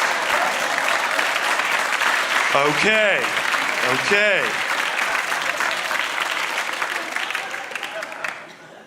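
A stand-up comedy club crowd claps loudly and steadily, with shouts and cheers rising through the middle before the applause thins out at the end; a brief word is spoken.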